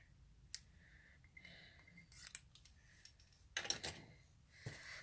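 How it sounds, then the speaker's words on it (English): Ribbon snips cutting a length of ribbon in a stamping and crafting session, a few quiet crisp snips and clicks scattered over low room noise, with no talking. "My ribbon snips here."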